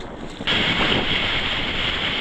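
Large waves break against a rocky shore: a loud, broad rushing surge swells up suddenly and holds as continuous churning roar, with gusty wind buffeting the microphone and no voices.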